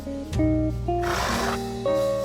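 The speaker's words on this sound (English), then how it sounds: "can I pick up a horse? Hello, horsey." A horse in a Minecraft-like video game gives a short, clear whinny over a steady background of game music tones.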